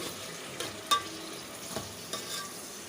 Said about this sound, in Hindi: अब हम इसके अंदर डाल देंगे टमाटर। मेरे पास 3 मीडियम साइज़ के टमाटर थे, ये मैंने इसमें डाल दिए हैं। इसको अच्छी तरह से मिक्स कर लेंगे।